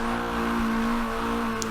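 Mazdaspeed 3 race car engine on a lap of the Sonoma short circuit, a steady, loud mid-pitched drone held at high revs throughout with a constant whine above it, near and unbroken.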